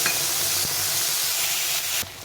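Spice paste hits hot oil in a pan while a katla fish roe curry is being cooked, giving a steady, close hiss and sizzle that drops off abruptly at the end.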